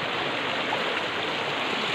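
Natural spring water pours steadily from a village tap in the Uttarakhand hills, a close, constant rushing hiss with no breaks or voices.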